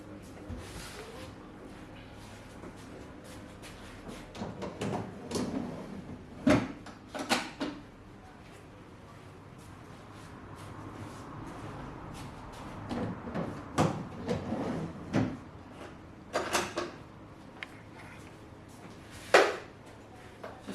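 Cabinet drawers on rollers are pushed closed into push-lock catches on Duralite Modular System base units, giving a series of sharp thumps and clacks spaced irregularly over a quiet workshop background.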